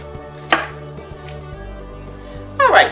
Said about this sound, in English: So he always cuts the vegetables up